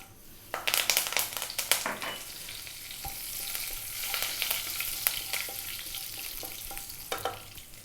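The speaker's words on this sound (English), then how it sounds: "And then we're going to drop in the curry leaves. These can be quite noisy." Cumin seeds and curry leaves sizzle loudly in hot oil over high heat for a mushroom curry, a dense crackling and spitting that bursts up as the leaves drop in and then settles into a steady fry.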